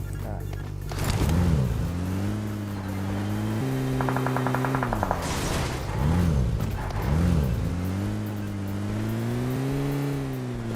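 Car engine in PUBG Mobile droning steadily while driving, pitch rising and falling as it revs through gear changes, with people talking over it throughout.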